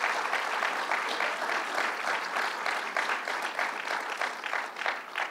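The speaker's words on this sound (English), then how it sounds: "So let's give him a round of applause." An audience at a political gathering with a governor and Long Island leaders gives sustained, even applause, a dense patter of many hands clapping continuously throughout, fairly distant in a large room.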